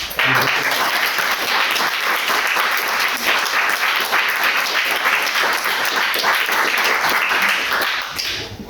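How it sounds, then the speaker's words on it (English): Dense, sustained audience applause at a lecture on cosmic horror, loud and steady throughout before tapering at the end, with no talking over it. "can we please all give Chris Lamb a round of applause"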